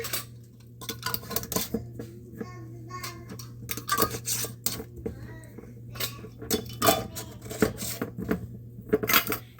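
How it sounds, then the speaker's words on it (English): Plastic lids snap and clatter onto a row of meal prep containers on a kitchen counter, a steady run of close, sharp clicks and rubbing knocks over a low constant hum. "Put the lid on each one."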